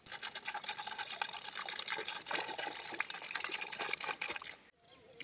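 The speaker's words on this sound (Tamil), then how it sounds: "தண்ணி ஊற்றியாச்சு" Water pours steadily over freshly picked karaunda fruit being washed, a close, splashing stream that runs for several seconds and then cuts off abruptly.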